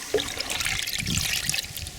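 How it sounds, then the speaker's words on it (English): Fermented fertilizer water is poured onto garden beds outdoors, a steady close splashing trickle with a brief gurgle near the start. "Now I pour this on my garden beds."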